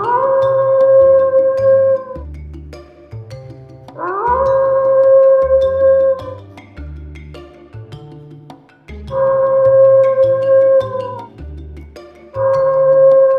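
A fox howl plays from a tape recorder set in bushes in front of a house, heard as several long, sustained wailing howls repeating in a steady cycle over a low, rhythmic backing.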